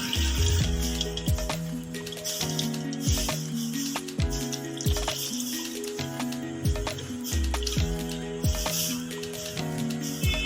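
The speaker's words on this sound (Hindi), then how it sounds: "अब हम इसमें 3 कप पानी के डालेंगे" Water poured from a cup splashes steadily into a wok with gram flour batter for several seconds, with a continuous hissing, bubbling texture.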